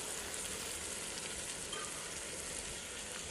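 Crushed garlic frying in a pan, a steady, soft, even sizzle throughout with no talking.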